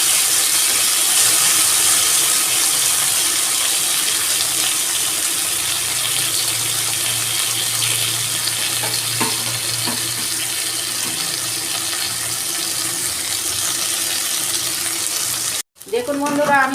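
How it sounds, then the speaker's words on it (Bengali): Fish frying in hot oil in a heated wok: a steady, loud, broadband hiss of oil runs almost without a break, briefly cut off near the end, with no talk over it. "কড়া গরম হয়ে গেছে, আমি মাছগুলো দিচ্ছি।"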